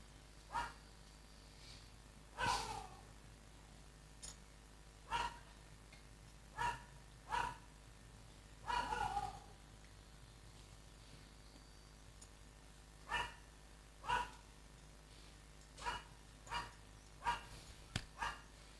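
A dog barks in scattered single yaps and short bursts, fairly distant and faint, with irregular pauses between them over a quiet background.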